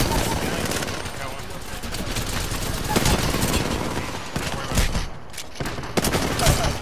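Sustained automatic gunfire in Apex Legends, loud and close, with shots stuttering in dense rapid bursts nearly without pause and a few sharper cracks standing out, while players talk over the fight.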